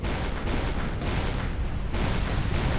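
Dense, continuous rumble of artillery fire with overlapping booms and bursts from a World War 2 battle video game, loud and sustained throughout with no talking.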